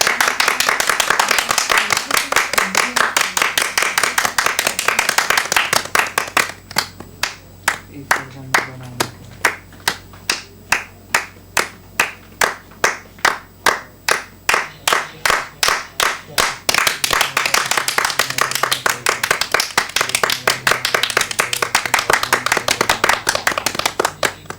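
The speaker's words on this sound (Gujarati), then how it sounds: "મારી સાથે બધા તાળી પાડો." Children at an anganwadi clap together in steady rhythm with a leader, sharp repeated claps running throughout, briefly thinning to sparse evenly spaced claps midway before the full group returns, with faint voices underneath.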